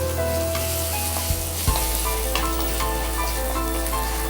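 Shallots and turmeric fry in a pan with a loud, steady sizzle, broken by a couple of brief stirring knocks, plus a low hum underneath.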